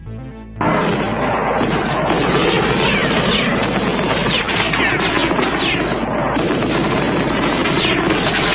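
Loud, dense gunfire fills an attack scene in a film, with sustained automatic bursts and heavy impacts starting abruptly and continuing without pause.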